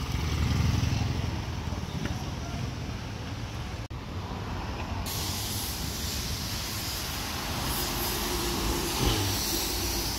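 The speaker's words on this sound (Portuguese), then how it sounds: "Rapaziada, olha essa moto diferenciada." A Royal Enfield motorcycle passing on a city avenue, a steady engine drone blended into loud street and traffic noise throughout.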